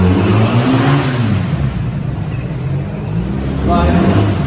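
A BMW R1300GS motorcycle engine revving during an offroad demo at an indoor show, loud and close, rising and falling and surging again near the end.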